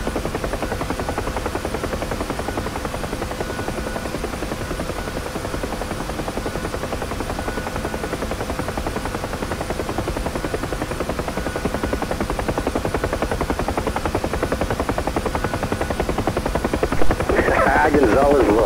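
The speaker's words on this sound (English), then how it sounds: "Is that our chopper?" A UH-1H Huey helicopter in the DCS flight simulator gives a steady, droning rotor and engine roar that runs unbroken throughout, with voices talking over it.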